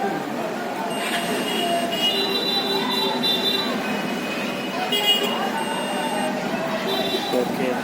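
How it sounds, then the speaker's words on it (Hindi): A multimeter emits thin, high, intermittent beeps while testing the speaker of a OnePlus Bluetooth earbud, sounding under a steady background of nearby voices. "बीप का आवाज़ आएगा तो स्पीकर ओके रहेगा।"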